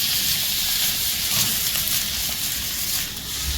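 Ingredients for eight treasure soup frying in a pan, a steady, dense sizzle and hiss holding at an even, fairly loud level throughout with no break.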